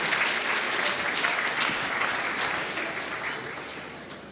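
Sustained applause from a workshop audience, a dense steady patter of many hands clapping that stays loud and slowly thins toward the end, with no voices over it.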